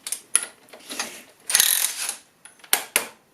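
A pulley on an alternator belt drive is turned by hand, giving uneven clicks, rattles and short grinding bursts of metal mechanism, close and intermittent.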